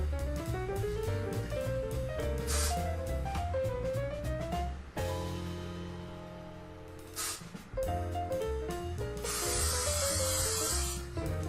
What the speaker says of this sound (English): now that your pan is hot, the next thing you want to do is spray it with some non-stick spray